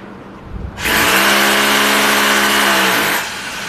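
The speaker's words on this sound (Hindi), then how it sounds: "ड्रिल मशीन सीधी चलाओ" An electric drill bores into a wall to fit an indoor air conditioner's mounting plate, running loud and steady for about two seconds with a strong whine before stopping, no voices.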